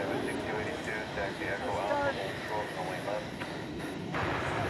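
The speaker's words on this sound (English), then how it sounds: "An American Eagle Embraer 170 is headed to Chihuahua in Mexico" An American Eagle Embraer 170 airliner at an airport at night gives off a steady, distant engine roar with a faint whine, continuous and low in level, under light background noise.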